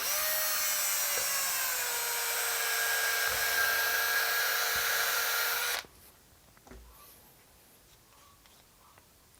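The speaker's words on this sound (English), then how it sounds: "you drill a small hole in the center" A small power drill whines loudly at high speed for several seconds, drilling a small hole in the center of a pad during fuel hose replacement on a Jaguar V12, then cuts off abruptly, leaving quiet room noise and a few faint knocks.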